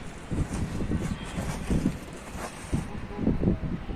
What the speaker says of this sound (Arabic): الدنيا هوا جامد